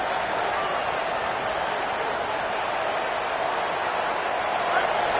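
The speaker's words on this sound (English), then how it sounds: "It's early, but this crowd is fired up. Listen to this noise here." Packed stadium crowd at an Arkansas vs Louisville college football game, giving off a loud, continuous roar that holds steady throughout.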